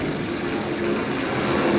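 Pond water from a fish pond pours steadily onto dense, compacted soil in a durian-growing plot outdoors, a continuous close splashing gush running the whole time without talk.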